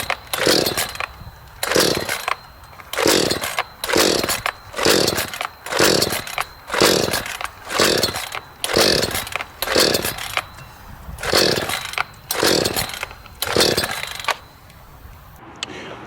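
A chainsaw in a cheap versus expensive test is pulled again and again, about a dozen bursts at a regular rhythm. Each pull gives a short rasping engine cough, and the saw falls quiet near the end.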